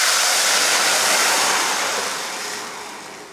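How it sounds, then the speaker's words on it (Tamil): Tamarind rasam liquid is poured into a hot tempering of crackled mustard seeds, curry leaves and asafoetida, making a loud, steady hissing sizzle close by that eases slightly toward the end. "இப்போ நம்ம ரசத்துக்கு கரைச்சோம்லையே அதை சேர்த்துடலாம்."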